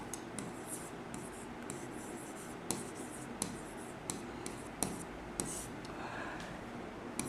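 Pen or pencil writing on paper while drawing a geometry construction for a circle theorem lesson, faint scratchy strokes broken by light taps and small pauses, close and quiet with no speech.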